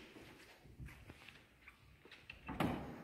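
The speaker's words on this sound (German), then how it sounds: "Hier gehen wir einmal durch die Tür" A door opening into a church confession room, with soft close clunks and shuffling, then a louder thud near the end, quiet and with no talk.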